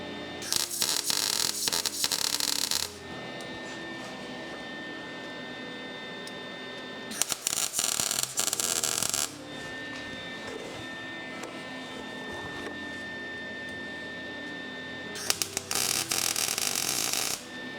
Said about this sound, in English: welding.